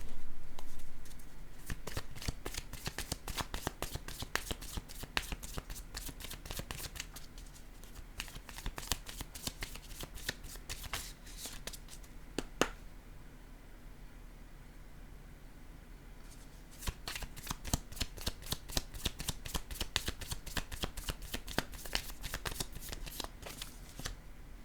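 Tarot cards shuffled steadily in the hand, a dense run of crisp riffling flutters with a brief pause midway before the shuffling resumes, close and clear with no talking.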